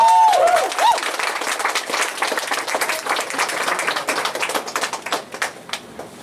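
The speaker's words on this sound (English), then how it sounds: "Let's hear another round of applause for Will." Sustained applause from an audience at an MFA showcase, dense clapping that gradually thins and fades over several seconds.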